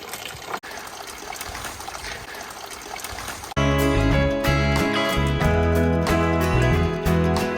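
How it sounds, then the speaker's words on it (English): Steady trickling spring water runs close by as it flows into a creek in the Superstition Mountains, Arizona, for a few seconds, then a louder layer of tonal sound with rhythmic hits rises over it. "This is the spring that flows into the main creek."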